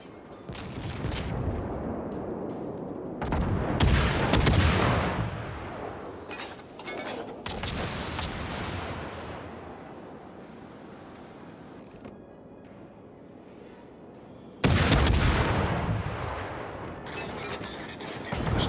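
Naval ship guns in World of Warships booming in several heavy salvos, loud and rumbling with long decaying tails, separated by quieter stretches of mechanical background noise.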